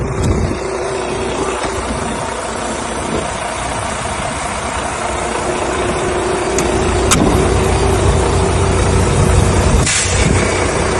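A heavy truck idles at close range in a steady low rumble as its air suspension is lowered before the trailer is uncoupled, and a faint hiss comes through the engine drone.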